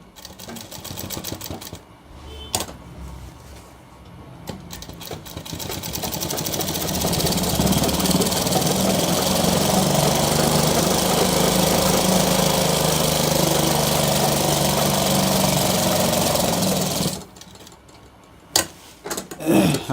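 A sewing machine stitches a shirt's fused buttonhole placket with a loud, steady mechanical whir. It runs continuously for about ten seconds, framed by shorter bursts and quiet handling at the start and end.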